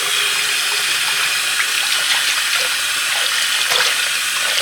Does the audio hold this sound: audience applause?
no